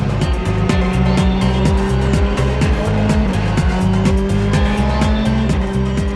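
A Volkswagen Polo rally car at full power on dry stages, its engine screaming close and loud through rapid upshifts, repeated rising pulls and abrupt gear changes with no pause.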